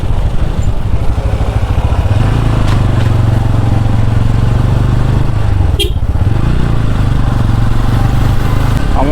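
Motorcycle engines idle and rev loudly at a night bike show, a continuous close rumbling drone that rises in pitch for a few seconds, with a brief sharp clatter midway.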